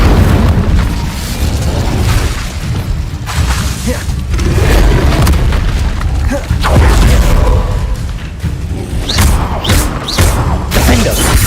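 Fire spell cast in the Hogwarts Legacy game, a loud, continuous roar of booming, crackling blasts filling the whole stretch, with sharper whooshing bursts near the end.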